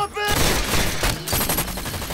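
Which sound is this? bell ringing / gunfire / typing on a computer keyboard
gunfire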